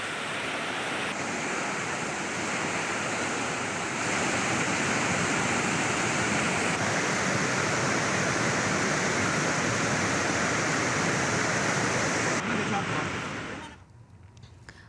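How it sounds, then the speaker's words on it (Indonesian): Swift floodwater carrying wood and mud roars as a dense, constant rush in a flooded village, steady and loud for most of the span before cutting away near the end. "Arus deras membawa material kayu dan lumpur."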